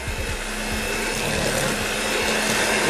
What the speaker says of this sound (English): This can take up to 5 minutes using a hand mixer.